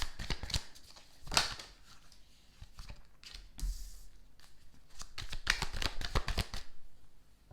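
Tarot cards are shuffled repeatedly up close, quick riffling bursts and soft flicks in an irregular rhythm.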